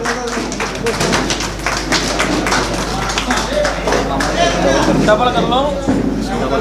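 A crowd at a welcoming event for a social worker claps steadily, with sharp, close claps that keep up throughout as voices and chatter mix in.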